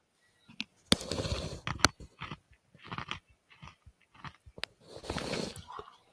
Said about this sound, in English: If you hear crunching, yes, I am eating a pretzel.